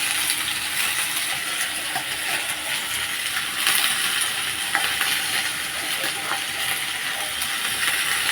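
Tarulli being fried in a pan, a steady loud hiss of oil sizzling close by, with faint scattered clicks and crackles and no talk.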